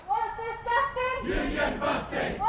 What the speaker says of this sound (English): demonstrations have been taking place outside Rockstar North's Edinburgh office